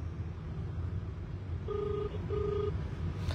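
A telephone placing a call: two short, even electronic tones in a row, a clear gap between them, sitting over a steady low background hum, with no voices.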